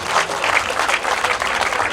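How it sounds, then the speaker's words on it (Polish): An audience at a live auction breaks into applause after a bid, a loud, dense wash of many hands clapping that holds steady for a couple of seconds. "O! Wielkie brawa!"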